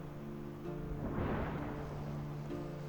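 Rumbling thunder from a lightning strike during a storm in the video game Sky: Children of the Light, a broad swell rising in the middle over steady rain-like noise and soft tonal music.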